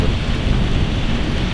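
Steady heavy rain arriving, with a dense, loud, unbroken roar of falling water and a low rumble that may be thunder, close by and with no voices.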